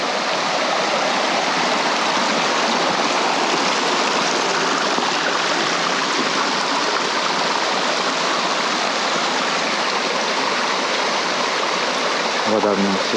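A mountain stream flows steadily along a forest hiking trail, a continuous close broadband rush of water that runs unbroken for the whole stretch, with a brief rustle near the end.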